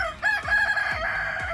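Recorded chicken clucks and crowing-like calls played from a phone lying in a hammock outdoors, several close, loud bird calls in quick succession.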